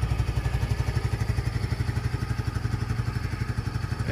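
A new 2024 motorcycle engine idles after starting, a close, steady low-pitched throb with an even rapid pulse and slight mechanical clatter, running alone without talking.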